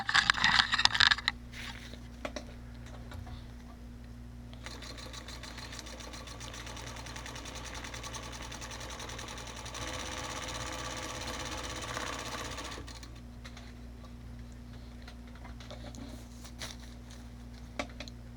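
A sewing machine stitches a stuff sack, a fast steady mechanical whirr with rattling needle strokes running in stretches, pausing between runs against a low electrical hum.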